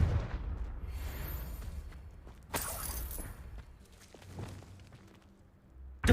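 Confringo spell blast in Hogwarts Legacy, a sharp explosive burst that flares loudly at mid-clip amid a rumbling background of other impacts and footsteps, with another sudden pop right at the end and no talking.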